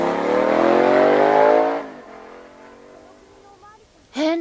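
A car in a puppet drama pulls away with a loud engine roar that fades quickly into the distance, followed by a brief burst of voice near the end.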